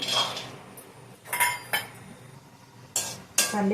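Peanuts go into a pan for bitter gourd powder, giving a few sharp clinks and rattles at irregular intervals between quiet stretches, with a louder pair of clattering hits near the end.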